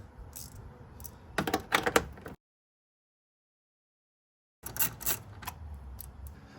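10mm bolts holding a transmission cooler reservoir are loosened with a hand tool, giving quick clusters of light ratcheting clicks up close, broken by a stretch of complete silence before more clicking resumes.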